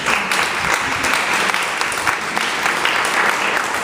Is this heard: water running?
no